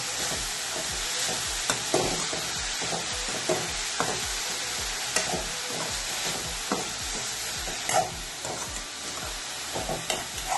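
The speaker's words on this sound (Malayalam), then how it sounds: "ഉപ്പിട്ട് കൊടുത്തിട്ടുണ്ട് സ്വല്പം മഞ്ഞപ്പൊടിയും കൂടെ ഇട്ട് കൊടുക്കാം എന്നിട്ട് നല്ലതുപോലെ ഇളക്കുക" A spoon stirs chembu (taro) thoran seasoned with salt and turmeric in a pan, with a steady soft sizzle and repeated scraping strokes at an uneven rhythm, close and alone without any talk.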